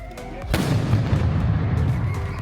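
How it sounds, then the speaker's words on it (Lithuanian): Ceremonial cannon salute fired in honour of the independence of Lithuania, Latvia and Estonia at a city vintage car rally event: one sharp, loud boom followed by a long rumbling roll and echo outdoors. "3 šalių garbiai paleisti patrankų šūviai už Lietuvos,"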